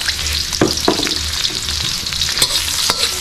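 Onions sautéing in a pan as the start of a chicken-feet adobo, with loud close sizzling and repeated scraping stir strokes of a spatula.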